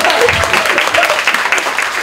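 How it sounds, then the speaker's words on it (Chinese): Audience applause at a mini concert, a dense burst of clapping filling the whole moment, loud and close. "掌声"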